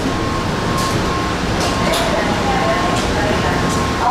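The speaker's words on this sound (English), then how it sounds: "this is still a great ride on the Green Line Metro Rail" Interior hum of a Houston METRORail Green Line light rail train in motion, a steady moderate rumble with brief higher hisses and a faint tone, under occasional nearby talk.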